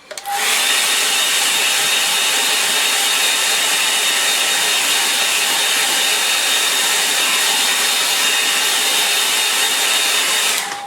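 A hair dryer blows onto a painting to dry it, a loud steady broadband whoosh that starts suddenly and holds at an even level close by, then cuts off at the end, with no talking over it.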